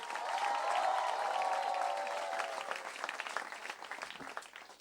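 An audience at a stand-up comedy show in Mumbai bursts into loud applause as comedian Neeti Palta walks on stage, the clapping swelling early and then thinning out into scattered claps over several seconds.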